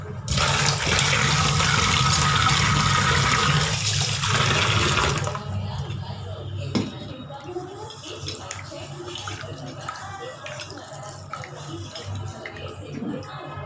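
Horse gram being rinsed under a steady stream of running water. A strong, loud gush fills the first few seconds, then settles into a softer, ongoing trickle and splash.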